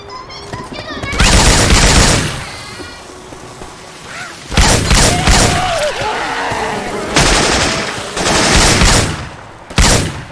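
Rifle fire in Left 4 Dead 2, modded with Syphon Filter weapon sounds, comes in loud rapid bursts of crackling shots separated by short pauses, with game voices talking in between.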